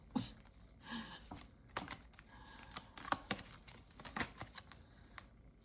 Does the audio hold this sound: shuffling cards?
yes